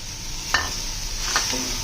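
Capsicum and cabbage being stirred in a hot pan for egg fried rice, a steady sizzle broken by two short scraping stirs.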